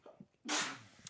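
A single sharp sneeze close to the microphone, a quick intake of breath followed by a burst of hissing noise lasting about half a second.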